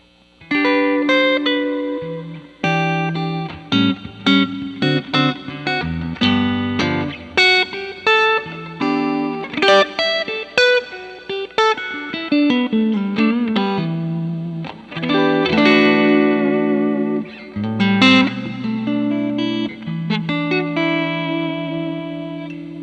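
Notes played through a Lexicon PCM80 digital reverb ring out in a steady musical phrase, each tone trailing into a lush, spacious wash that carries between notes, loud and without any voices.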